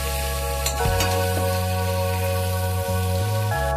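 Pointed gourd (potol) fries in a pan with a soft continuous sizzle and occasional stirring scrapes, set against a steady low hum.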